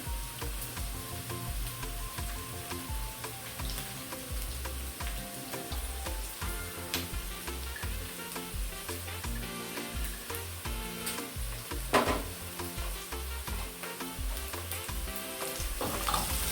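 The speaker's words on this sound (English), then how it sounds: "You can see how the onions are cooking very well." Onions fry in a pan for fried rice, giving a steady, dense sizzle that holds throughout with a faint stir or clink near the middle.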